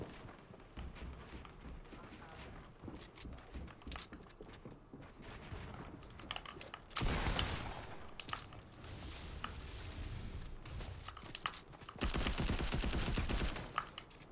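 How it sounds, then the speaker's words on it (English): Rapid bursts of automatic gunfire from a Fortnite match crackle in waves, with dense volleys growing louder and near around the middle and again near the end, under a steady game-sound bed. "Oh, stop shooting me, game."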